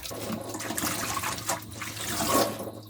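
Salted rinse water drains from a basket of young radish greens and napa cabbage greens readied for kimchi. The close, steady splashing trickle has brief louder gushes and no speech.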